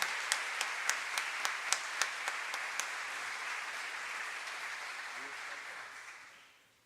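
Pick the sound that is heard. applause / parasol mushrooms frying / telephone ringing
applause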